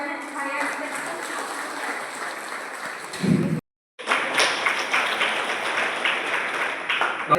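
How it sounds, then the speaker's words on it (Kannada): An audience claps together at a public gathering, a dense, steady wash of applause that breaks off for a brief moment midway and then swells again. "ಚಪ್ಪಾಳೆ"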